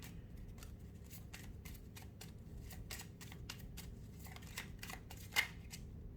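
Tarot cards riffled and reshuffled by hand in a series of quick, crisp card flicks and taps at close range, with a sharper slap near the end, over a low steady background hum and no talking.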